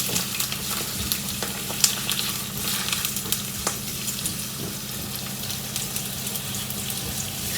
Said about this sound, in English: we'll add in our sliced onions, green chilies and curry leaves, and now we're just going to fry lightly